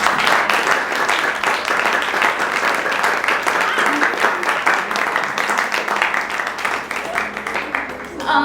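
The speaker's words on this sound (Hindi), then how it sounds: "कोशिश अगर अच्छी लगी हो तो तालियां बजाओ।" A theatre audience at a devised stage performance breaks into loud, sustained clapping, many hands close and dense, with a few voices faintly mixed in before it thins near the end.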